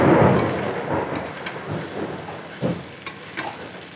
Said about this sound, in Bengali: শুনতে পাচ্ছ নিশ্চয়ই কত জোরে বিদ্যুৎ চমকাচ্ছে